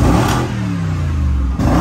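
A V6 car engine with a sport exhaust revs hard, a loud close-up roar that drops away and then surges back again, with no talking.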